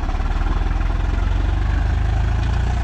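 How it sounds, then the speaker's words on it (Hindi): A Swaraj 855 FE tractor from 2023 with side gear runs close by, its diesel engine idling in a loud, steady, pulsing throb with a heavy low chug and no talk over it. "बढ़िया दमदार साउंड है ट्रैक्टर का जी"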